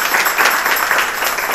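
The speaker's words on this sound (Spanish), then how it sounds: "Fuerte el aplauso para ellos." A crowd applauds in a continuous, dense wash of clapping, fairly loud and steady throughout.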